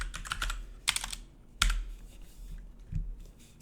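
Keystrokes on a computer keyboard as a command is typed, a short irregular burst of close, crisp clicks with a louder tap near the middle and a softer one toward the end.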